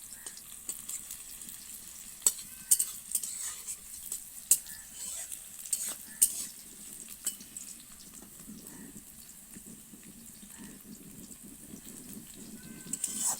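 Onions fry in a pan for a banana peel paste, a soft steady sizzle with scattered sharp stirring taps and scrapes, close but fairly quiet and without any talk.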